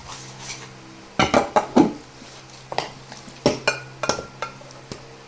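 A metal cooking-pot lid clanks and clatters in a series of sharp knocks and scrapes as it is picked up and set down, close by.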